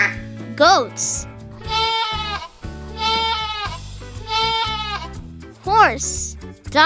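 Goats bleat in three long, quavering calls, loud and near, over a bouncy children's song accompaniment, with quick whooshing sound effects between them.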